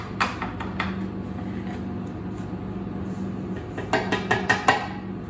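Coffee grounds knocked out of an espresso grinder's collection tray into the trash, then the tray rinsed: clattering knocks and taps early and again near the end, over a steady running-water hiss throughout.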